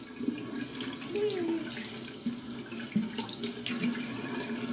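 Tap water runs steadily into a sink while a makeup brush is rinsed under it. The flow is a close, continuous hiss, with faint splashes and brief shifts as the brush moves through the stream.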